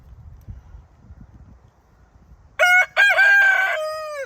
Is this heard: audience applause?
no